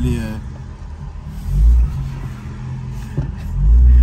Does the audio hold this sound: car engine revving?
yes